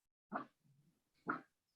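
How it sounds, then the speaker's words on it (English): A small dog gives two short, sharp barks a second apart, with a faint low whine between them, heard at close range and fairly quiet. "And that's my dog."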